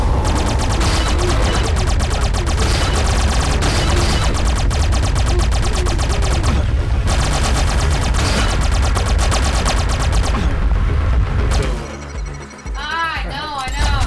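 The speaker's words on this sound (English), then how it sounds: "this gun has infinite ammo, which is obviously not realistic, but it still has shells flying off the gun" Infinite-ammo gun in The Mummy Demastered firing in a dense rapid stream of sharp shots with shells flying off, loud and continuous for most of the stretch, then giving way to bleating creature cries and quieter game sounds near the end.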